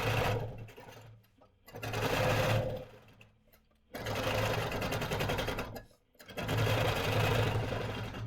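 Longarm quilting machine stitching a 25-patch quilt along a ruler, its steady motor whir running in three sustained bursts with brief pauses between, close and fairly loud.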